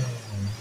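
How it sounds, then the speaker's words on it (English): Ford S-Max 2.0 diesel with an exhaust temperature fault for its particulate filter, briefly revved: a low steady engine hum that swells slightly, heard up close and alone. "give it a few revs"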